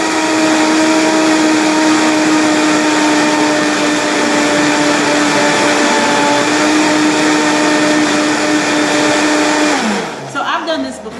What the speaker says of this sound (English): And then we're going to blend this again till it becomes soft.